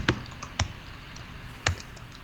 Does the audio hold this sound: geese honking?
no